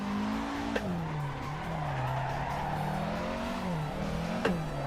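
AE86 in Assetto Corsa, engine droning steadily near full throttle with pitch rising and falling, plus continuous tire squeal and two brief sharp spikes, loud throughout with no talk.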